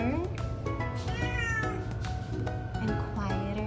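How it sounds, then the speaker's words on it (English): A pet cat gives a string of soft, high meows close by, several short cries in a row with a person talking quietly underneath. "the little meows are getting softer"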